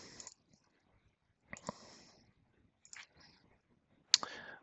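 Computer mouse clicks at a desk while navigating software settings, a few sparse, quiet clicks separated by pauses, with one sharper click near the end.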